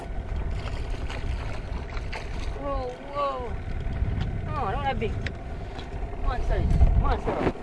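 A boat engine idles with a steady low rumble in a Jamaican harbour during fishing, while several people talk loudly over it nearby.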